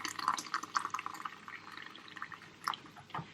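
Tap water runs into a tomato jug as it is filled for a batch curry, a burbling, splashing pour with small bursts and drips, close and fairly quiet.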